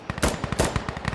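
Rapid bursts of Mark 18 carbine fire from Insurgency: Sandstorm, an M16 carbine version, crackle in quick rhythmic succession, several sharp shots close and loud with no talking.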